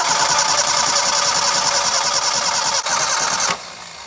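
A car engine cranks steadily and loudly with a spark tester attached and its relay and fuse in place, a continuous close churning that cuts out abruptly near the end.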